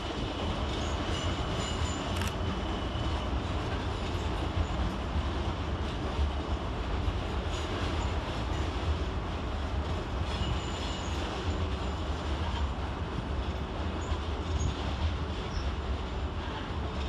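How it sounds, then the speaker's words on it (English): Southwestern Railway Class 455 electric trains pull out of London Waterloo with a steady, loud rumble of wheels and carriages, light squealing and faint rhythmic clatter over the track filling the whole stretch. "Next out to depart is 455 853 and 455 723 with the 1317 Southwestern Railway service to Chessington South"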